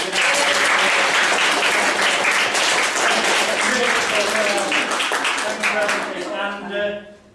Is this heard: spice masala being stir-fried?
no